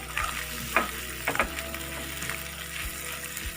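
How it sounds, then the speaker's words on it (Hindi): Egg and tinda (round gourd) curry stirred in a pan, with a steady frying sizzle underneath and a few scraping clinks of the spoon against the pan at irregular intervals. "अब हम इसे अच्छे से मिक्स कर लेंगे।"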